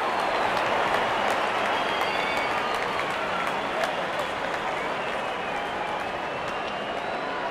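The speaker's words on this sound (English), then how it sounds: "Crowd is enjoying every bit of this action." Cricket stadium crowd at an Afghanistan versus Bangladesh one-day international cheering a boundary four: a dense, sustained roar of applause and cheering filling the whole stretch, with commentary faintly beneath.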